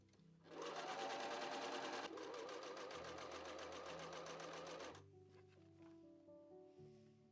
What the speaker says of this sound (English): I've done all my top stitching, top stitched along the top of there to close it off.